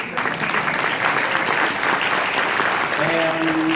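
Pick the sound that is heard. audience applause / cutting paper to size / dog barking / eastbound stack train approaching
audience applause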